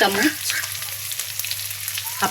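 Cumin paste and spices sizzle in hot oil in a pan while a shrimp curry is cooked for lunch, a steady close frying hiss running throughout with no talking.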